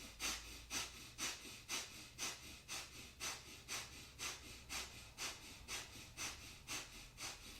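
Rapid, even Kundalini yoga breath of fire, sharp rhythmic nasal exhales pumping at roughly two per second, close and steady with no talking.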